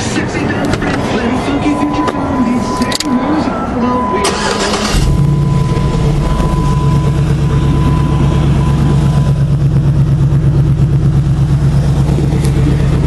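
Truck engine running just after start-up: a rough start and rev at first, then a steady low idle drone with a pulsing beat that holds loud and close to the end.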